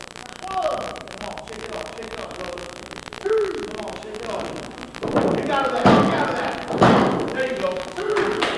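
At an AZW pro wrestling event, a wrestler is driven into the ring mat by an exploder suplex, landing with a couple of heavy, booming thuds amid loud crowd noise and a commentator's voice.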